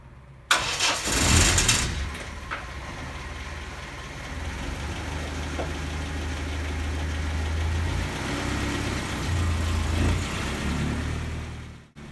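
A stripped-down Land Rover with its roof removed starts with a sharp crank, then settles into a steady mid-pitched running engine nearby as it drives a short distance, before the sound cuts off.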